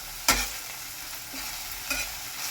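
Onions frying and being stirred in a pan, cooked only until translucent: a steady soft sizzle with a sharp scrape at the start and a couple of lighter scrapes later, close and fairly quiet.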